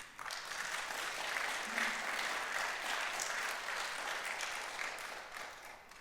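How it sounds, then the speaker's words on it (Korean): Congregation applauding during a Sunday church service, a steady wash of many hands clapping together at moderate distance, fairly quiet and continuous for several seconds with no talk over it. "박수 한번 해주세요."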